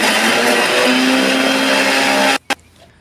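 A mixer grinder whirs loudly and steadily while grinding onion masala into paste, then cuts off abruptly, followed by a single short clunk and near silence.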